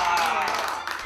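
Restaurant customers break into a burst of clapping when a heaping golden haesintang, a seafood hot pot with abalone, shrimp and scallops, arrives at the table; a dense, steady patter runs under a narrating voice.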